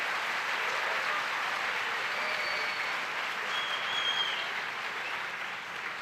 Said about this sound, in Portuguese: Então, vamos dar uma salva de palmas aí.